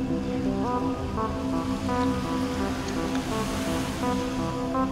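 Ocean waves in Thailand wash in a continuous, loud surf roar with steady broadband noise and low rumble, no voices, alongside a faint tonal hum like a distant boat engine.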